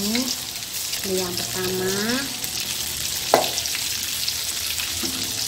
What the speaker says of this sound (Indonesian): Ini digoreng kembali sampai kering lagi, nanti kita lanjutkan menyiram lagi setelah ini kering.